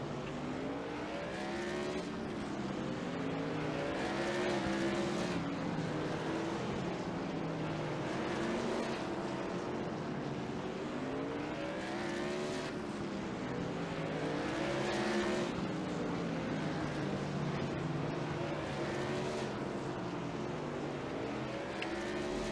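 Modified race cars lapping Irwindale Speedway during a 90-minute endurance race, engines droning steadily as the pack sweeps past in repeated rising and falling waves, a continuous roar at moderate distance.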